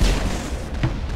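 Rocket explosions in the Mass Effect video game: a loud booming blast at the start followed by a second, sharper impact, with rumbling noise in between.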